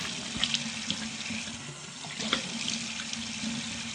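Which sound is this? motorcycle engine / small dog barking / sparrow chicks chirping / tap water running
tap water running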